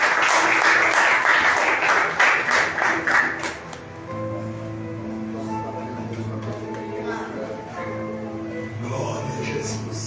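A church congregation claps in rhythmic, fairly loud applause for several seconds before it dies away. A sustained, droning tone and quieter sounds from the hall continue afterward.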